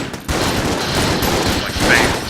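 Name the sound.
shotguns firing in the video game Enter the Gungeon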